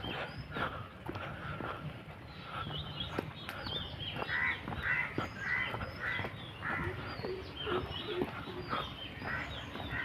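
Crows caw repeatedly at a hotel in Kumarakom, moderately distant, over a steady outdoor background with some scattered footsteps.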